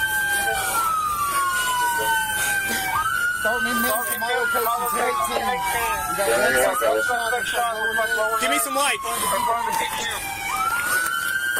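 A police car siren wails in repeated rising and falling sweeps, close and loud, while several officers shout and talk urgently over it during an arrest scuffle.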